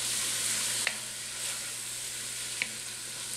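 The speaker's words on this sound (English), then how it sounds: "we're just going to saute those vegetables in that oil" Onions and red bell pepper sauté in oil for green chili with fresh Hatch chili peppers, giving a steady, close sizzle with two brief utensil ticks and no talking.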